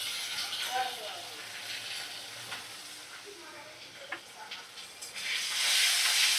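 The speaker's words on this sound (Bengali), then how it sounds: "ভালো করে মশলা কষিয়ে নিচ্ছি। মিডিয়াম ফ্লেমে রেখে 2-3 মিনিট এইভাবে মশলাটা কষিয়ে নেব।" Spices for a biryani masala sizzle and fry in a pan over medium flame with tomato and yogurt, a steady close hiss with stirring scrapes throughout, rising louder near the end.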